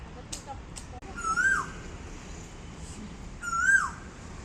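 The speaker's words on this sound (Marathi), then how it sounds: "कोकिळा बघा ना किती छान ओरडतीये" An Asian koel calls twice, each a clear rising then falling whistle, with quiet outdoor background and a few faint knocks in between.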